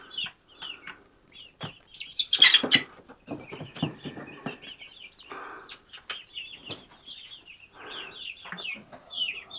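Chickens cluck and chatter close by in a series of short, irregular calls, with a brief flutter of wings.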